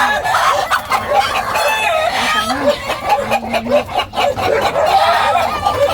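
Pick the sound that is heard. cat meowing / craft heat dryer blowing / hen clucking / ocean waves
hen clucking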